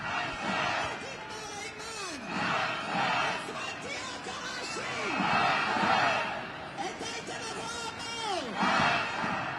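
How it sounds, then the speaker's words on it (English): A large crowd in Israel yells and chants below a high bridge over Menachem Begin, the roar distant and swelling in waves with rising and falling shouts, continuous throughout. "I don't know if you can hear the crowd."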